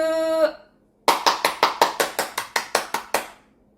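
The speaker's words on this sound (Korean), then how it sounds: "박수!" Children at a church Sunday service clap after a tone ends, about a dozen evenly spaced, crisp claps in a quick unison rhythm, close and clear, then silence.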